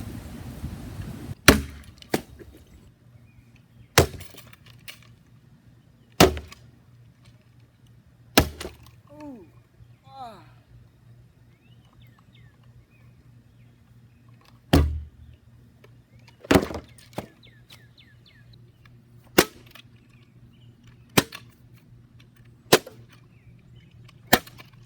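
A homemade medieval wooden flail strikes a metal can filled with water, giving about a dozen sharp, loud, isolated impacts spaced unevenly a few seconds apart, with quiet movement between blows.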